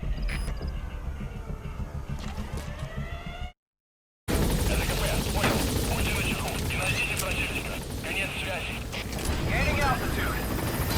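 Helicopter in the video game Metal Gear Solid V, a steady loud rotor and engine roar that cuts out briefly and returns, with game sounds and voices over it.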